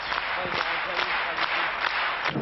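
Applause from a crowd of delegates at a CGT union congress, steady clapping sustained throughout under a voice speaking over it.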